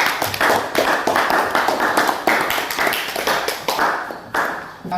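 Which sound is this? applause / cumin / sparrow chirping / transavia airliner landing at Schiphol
applause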